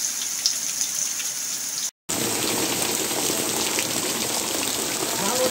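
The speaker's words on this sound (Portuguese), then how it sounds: "chuvinha grossa agora nesse momento" Heavy rain pours steadily onto surfaces in a town in Piauí, a dense continuous patter with a brief dropout near the middle before the downpour resumes.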